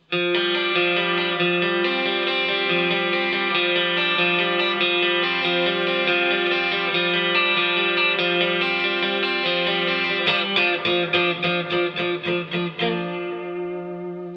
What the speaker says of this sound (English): Measures 29 and 32 are some arpeggios on some chords we've seen before.